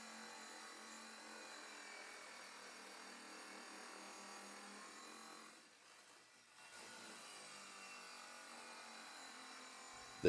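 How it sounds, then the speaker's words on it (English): A diamond blade on a saw slowly cutting a vinyl PVC gate picket, a faint, steady, noisy whir with a brief dip in the middle before it resumes, heard alone. "The diamond blade is noisy and it's slow cutting, but it is the best way to cut it without chipping the product."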